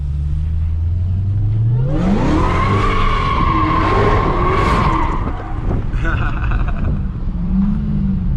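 A car engine roars as the tires spin and screech in a long skid, loud and close, ending in a rough idle; a Dodge Hellcat or a race-tuned Infiniti Q50 drifting.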